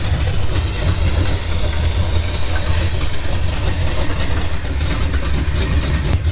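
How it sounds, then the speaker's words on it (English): Loud, close idle of a 1962 Chevy big block V8 running open headers, a continuous deep throbbing rumble with a steady pulse and no talk. "Open headers on a big block sounds so dang good."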